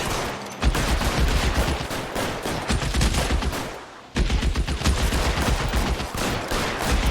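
In the L.A. Noire video game, dense rapid gunfire fills two long bursts of a shootout, loud and continuous, with a brief lull between them.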